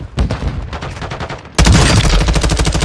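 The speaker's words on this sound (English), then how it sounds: "I'm getting shot in the back" Rapid gunfire in Warzone 2.0, with fast automatic bursts that turn louder and denser as a closer weapon joins halfway, a continuous rattling volley with no talking.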